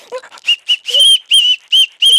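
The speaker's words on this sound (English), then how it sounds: "Where is my whistle?" A whistle is blown in a string of short, shrill blasts, loud and close, with uneven rhythm and brief gaps between them.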